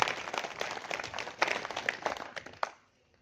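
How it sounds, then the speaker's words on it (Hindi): An audience claps in welcome at a community committee meeting in a village setting, a dense burst of applause that fills the room for nearly three seconds before stopping abruptly, with no talk over it. "जोरदार तालियों से स्वागत करता हूं।"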